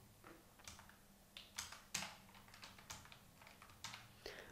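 Someone types a search query on a computer keyboard: quiet, uneven clusters of light key clicks tap away close by with no talking.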